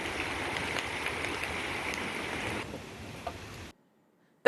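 Heavy rain pours over floodwater in Vasai-Virar, a steady, dense wash of water that cuts off abruptly into silence near the end.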